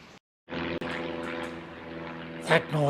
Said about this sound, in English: That noise is from a light aircraft